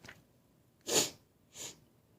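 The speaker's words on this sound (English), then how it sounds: "like I have those sneezes again" A person sneezes sharply and loudly, then makes a second, softer sneeze or snort about half a second later, close up in a quiet room.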